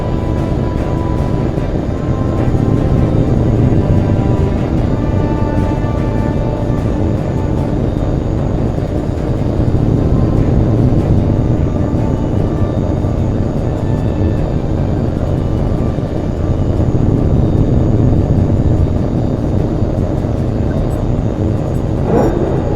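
A Eurofighter Typhoon jet taking off in the video game H.A.W.X 2: a loud, continuous engine roar holds steady across the whole stretch, dense and unbroken, with no voices over it.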